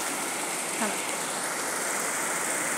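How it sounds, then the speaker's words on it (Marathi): Heavy rain pours in Pune in a dense, constant hiss, steady and loud throughout, with a faint brief voice barely surfacing. "किती पाऊस पडतोय"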